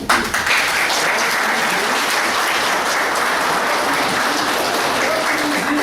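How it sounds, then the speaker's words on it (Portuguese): An audience at a workplace safety-week talk on radiation protection applauds steadily and loudly for several seconds, a continuous wash of many hands clapping with no pause. "para a qual eu peço uma salva de palmas"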